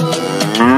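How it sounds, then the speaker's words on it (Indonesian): A horned, spotted cow lets out a single short moo, close and clear, rising slightly in pitch at the end. "Wow, ada seekor sapi belang teman-teman."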